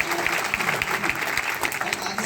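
Applause from an audience at a Modicare business event in Mumbai, a dense, steady roar of many hands clapping that holds at full strength throughout.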